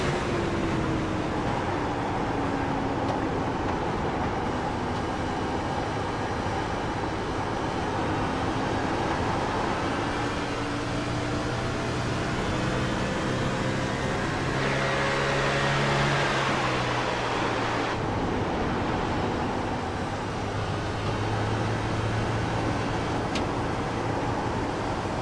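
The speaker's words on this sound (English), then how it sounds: "let the viewer kind of hear what it sounds like inside that car" Onboard sound from inside NASCAR race car number 42 at Darlington, a loud, steady engine drone that rises and falls through gear changes and throttle, with a brief surge and shift around the middle, no talk.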